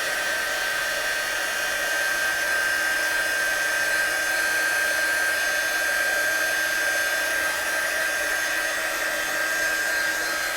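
Heat tool or hair dryer blowing over a watercolour-painted Christmas stamped card, a steady, loud, unbroken whooshing roar with a thin high whine running for the full length.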